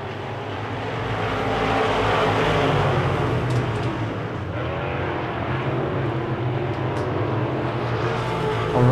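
Wissota Midwest Modified race cars roar around a dirt oval on a final lap, a loud continuous engine drone with shifting pitch as cars pass, no talk over it.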